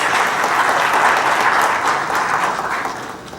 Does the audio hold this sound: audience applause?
yes